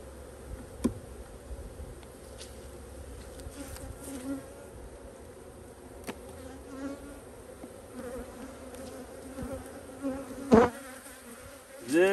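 Honey bees buzz steadily around an open beehive during an inspection, a dense continuous drone with occasional louder passes of single bees close by and soft handling knocks.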